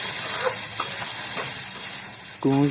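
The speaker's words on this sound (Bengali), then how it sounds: "এভাবে নাড়াচাড়া করতে হবে" Chopped tomato being stirred into potatoes frying in a pan for begun masala, a steady close hiss and sizzle with soft scraping stirs, ending in a brief louder scrape.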